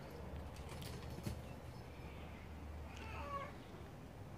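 A pet cat gives a few short, fairly faint meows over a low steady hum in a quiet room, with no one speaking.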